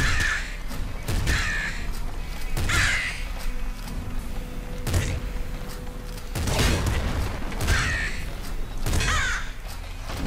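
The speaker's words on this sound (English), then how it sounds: "Look at that! Look at how many birds there are!" Crows caw repeatedly from birds in the Nuclear Throne video game, with several bursts of harsh calls spread through the scene over steady game noise, alongside faint booms and gunfire-like shots.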